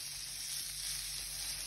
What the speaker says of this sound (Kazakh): Одан соң тәтті бұрышымызды саламыз. Қуырамыз тағы да 2-3 минут бойы.